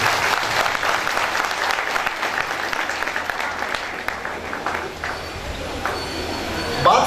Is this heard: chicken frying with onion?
no